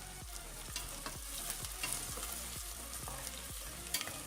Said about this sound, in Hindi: थोड़ा सा इनको ब्राउन कर लेना है प्याज को